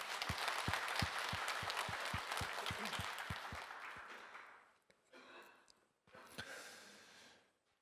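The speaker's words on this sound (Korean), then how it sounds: "하나님께 영광의 박수 올려드립니다." A congregation applauds during a Korean Sunday church worship service: sustained clapping with a steady rhythmic beat for about four seconds, fading out, then a brief softer burst of clapping near the end.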